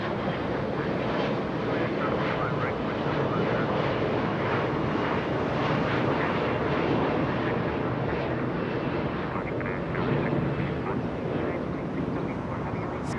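A British Airways jet taxiing at Los Angeles International Airport produces a sustained, fairly loud engine drone with slight pulsing texture, steady from start to finish without pauses.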